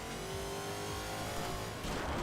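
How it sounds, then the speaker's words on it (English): A car engine in the video game Crackdown drones loudly and continuously with a buzzing, harmonic-rich tone that holds steady, then rises in a revving surge near the end. "game seems nice, but the engine noise"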